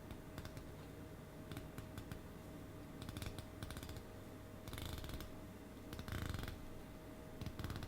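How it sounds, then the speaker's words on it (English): The 120-click unidirectional bezel of a 2016 Orient Mako II watch is turned, producing faint, rapid runs of small close ratcheting clicks in several short bursts. "the bezel, still unidirectional bezel, it is now 120 click. So let's go ahead and give it a whirl"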